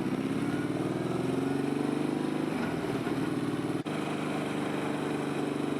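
A motorcycle with heat-wrapped exhaust headers runs steadily on the road, its engine a loud continuous rumble close by that shifts pitch slightly as it rides, with no talking.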